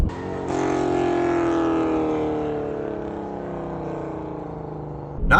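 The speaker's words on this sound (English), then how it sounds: "or decelerating and you get the snap, crackle, pop." A 2000s V8 luxury saloon, either a Mercedes E63 AMG or a BMW M5, decelerating: loud engine note sweeping steadily downward as revs fall, close by, with little distinct crackle and a short burst at the end.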